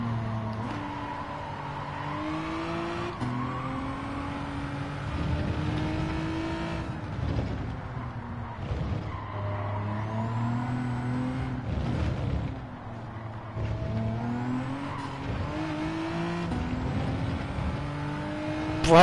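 Ferrari race cars in a racing video game roar steadily, engines rising and falling through gear changes as they run close and loud throughout.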